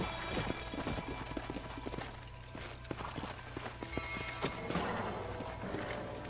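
Horse hooves clip-clop in the Red Dead Redemption video game, a steady run of close, sharp hoof knocks over a low constant game ambience, with brief scrapes and stamps as the riders slow down.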